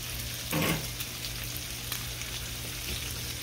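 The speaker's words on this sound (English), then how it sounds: "we're just going to take this gravy and stir in this milk" Milk stirred into gravy in a hot pan, a continuous frying sizzle with a louder hiss burst early on and faint spoon scrapes, no talking.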